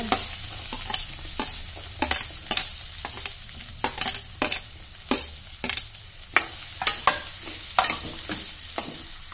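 Onions, garlic paste and curry leaves fry in a pan for a carrot palya, a steady close sizzle broken by repeated sharp scraping strokes of a stirring spoon.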